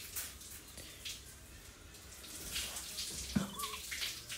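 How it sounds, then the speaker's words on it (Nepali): Water is poured into a pot to cook rice at a church picnic outdoors, a faint splashing pour that swells in the latter half over low background noise. "पानी हाल्यो भात पकाउनलाई"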